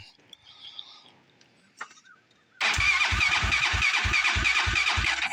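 A 440 big bore dirt bike with a freshly rebuilt top end and new competition clutch starts up: quiet shuffling and faint voices, then the engine fires and settles into a loud, close, steady thumping idle.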